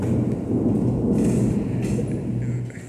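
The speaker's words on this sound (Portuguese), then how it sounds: "Que chuvarada, pessoal. Vocês estão ouvindo aí, pessoal? Os trovões." Thunder rolls as a low, continuous rumble through a heavy rainstorm, with a steady hiss of rain beneath it and no speech.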